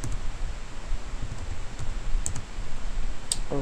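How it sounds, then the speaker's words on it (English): Typing a password on a computer keyboard, soft scattered key clicks close by over a low background hiss, with no talking. "type the password"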